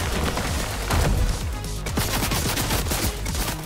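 Rapid automatic gunfire from a Fortnite match, a dense continuous spray of shots with sharp transient bursts that stays loud and close throughout, mixed with game sounds and no talking.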